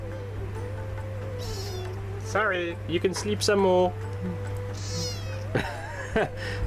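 A domesticated cat on a Kerala houseboat lets out several drawn-out, wavering meows close by, mixed with a voice speaking over a steady low engine hum.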